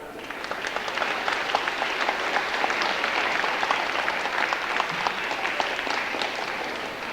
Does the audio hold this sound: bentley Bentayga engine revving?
no